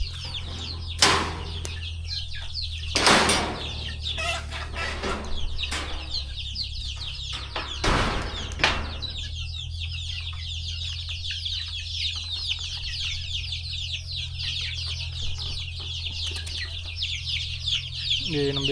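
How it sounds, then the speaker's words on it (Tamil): One-month-old country chickens in a coop at a country chicken farm, soft scattered clucking and chirping with occasional wing flaps and bumps, fairly quiet and close. "இப்போ இங்கே தான் நம்ம இந்த 1 மாத கோழிங்கெல்லாம் விட்டு வச்சுருக்கோம்."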